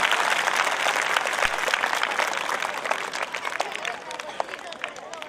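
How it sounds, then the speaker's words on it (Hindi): Loud, dense applause from an audience at a school event fills the whole stretch, with many hands clapping together and crowd murmur underneath, easing slightly toward the end. "एक बार जोरदार तालियों से"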